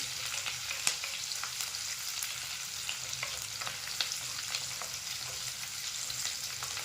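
Steady crackling sizzle of curry leaves and green chillies sautéing in hot oil, with occasional sharper pops and light stirring, close and continuous without any voices.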